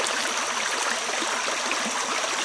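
A creek running full after rain, a continuous close rush and gurgle of water, steady and even throughout.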